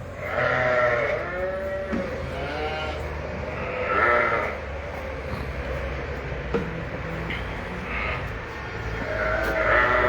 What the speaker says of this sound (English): Suppose we can see if we can find these Suffolk lambs that Dave's on about, can't we?